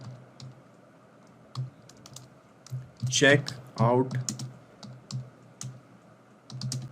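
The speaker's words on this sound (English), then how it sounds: "So here I'm typing, hello people" Keys clack on a computer keyboard as a message is typed, a quick run of close, light clicks in bursts, with someone talking over parts of it.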